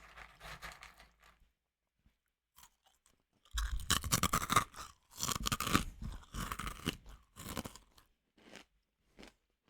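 Close-up chewing of crunchy Chex Mix into a regular microphone: scattered light crunches, a pause, then longer bursts of loud, dense crackling bites with brief gaps, and no speech.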